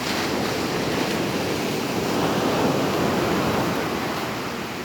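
Sea waves wash in a steady broad roar on the coast at Alanya, Turkey, with wind rushing over it and no voices.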